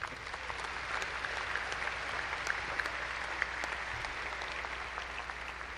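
A commencement crowd at Angelo State University applauds its graduates, a steady wash of many hands clapping, somewhat distant and quiet, with scattered sharper claps standing out.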